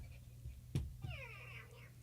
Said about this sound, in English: Our new kitty.